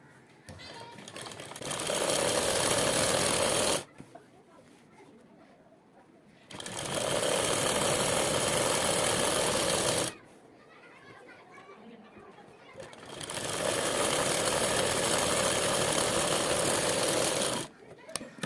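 A sewing machine stitching the seams of a trouser runs in three long, loud, steady bursts separated by quieter pauses with faint background voices.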